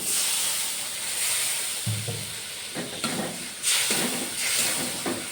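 A splash of water hits frying masala in a pan, producing a steady close hiss and sizzle with occasional stirring scrapes throughout and no talking.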